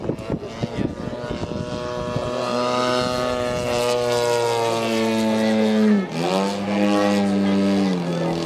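A radio-controlled model airplane with a propeller engine flies overhead, its loud, steady buzzing drone holding pitch and then dipping and shifting briefly as it passes close by.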